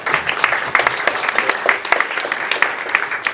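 A conference audience applauds panelists at a business panel discussion, with steady, dense clapping from many hands throughout and no speech.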